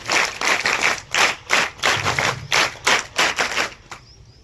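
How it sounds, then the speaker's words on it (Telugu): A group of scouts performs the scout clap, a rhythmic pattern of sharp, crisp unison claps in quick bursts with brief pauses, loud and close, ending in a short silence. "Scout claps go."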